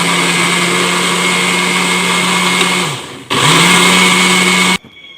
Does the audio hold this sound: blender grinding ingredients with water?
yes